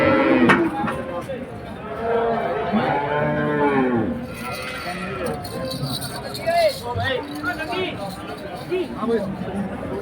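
Cattle moo repeatedly at a busy livestock market, several long lowing calls near and mid-distance over a background of crowd chatter and people talking.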